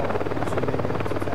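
A helicopter in the video game BeamNG Drive gives a steady, loud rotor thrum with a rhythmic pulsing chop, heard alone with no voices.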